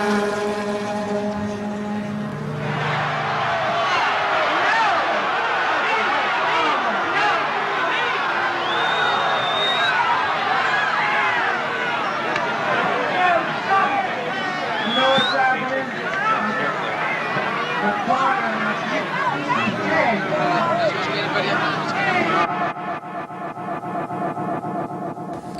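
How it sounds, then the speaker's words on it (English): Crowd roar and shouting at the 1969 Altamont Speedway free concert during a violent scuffle on stage, a dense, loud wall of hubbub sustained for about twenty seconds before it cuts off abruptly. "That was the sound of a little violence on the stage Saturday afternoon at Altamont"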